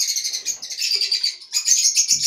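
Lovebird parrots kept indoors chirp in a rapid, bright, continuous chatter, close and fairly loud, with brief pauses between bursts and no talking.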